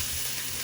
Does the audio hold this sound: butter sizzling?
yes